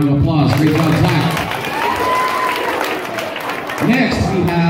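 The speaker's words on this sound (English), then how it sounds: "Give him a round of applause" An audience at a school percussion demonstration claps and cheers for a performer, a dense, sustained burst of applause with a voice speaking briefly at the start and again near the end.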